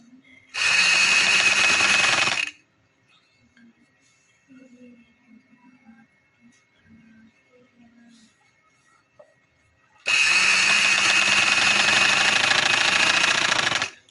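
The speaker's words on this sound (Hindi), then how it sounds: "तो आपने ऐसे सिलाई लगाते हुए, क्योंकि पट्टी के ऊपर आपने सिलाई नहीं लगानी देनी" A sewing machine stitches a black trouser in two loud continuous runs of about two seconds and four seconds, separated by a long quiet pause with faint handling noises.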